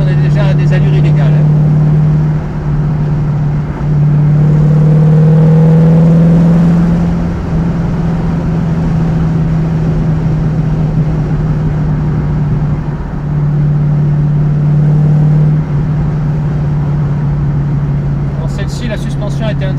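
A 1968 Ford Mustang GT V8 pulls hard in second gear, its loud engine drone rising and holding steady close by for several seconds, then easing off and building again, while someone talks over it.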